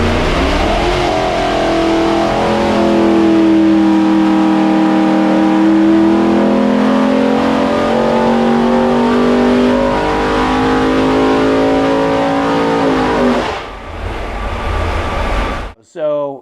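A 500 cubic inch billet small-block Chevy running on methanol through an Engeler injection system, pulled hard on a dyno: a loud, steady roar that climbs in pitch for about thirteen seconds, then drops away and cuts off abruptly.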